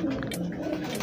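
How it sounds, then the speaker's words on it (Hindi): Pigeons coo softly and repeatedly while bathing, the low throaty calls close by over a faint background hum, with no talking. "कबूतर अपना नहा रहे हैं माशाल्लाह"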